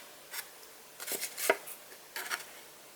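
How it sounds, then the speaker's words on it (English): Quiet crisp snips of scissors cutting paper, several short cuts in uneven bursts with brief pauses, close by and with no talking. "I literally just took my scissors"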